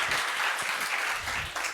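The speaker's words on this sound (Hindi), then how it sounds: "पहले स्वागत करें एकदम तालियों से" Brief, lively audience applause welcomes a guest, a dense patter of clapping that lasts under two seconds with no talk.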